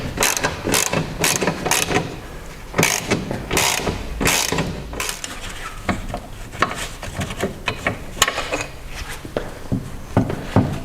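A ratchet undoes the differential mount bolts on a Fiat Panda 4x4, giving rapid, close clicking in bursts and sharper clacks early on, then lighter intermittent ratcheting and knocks.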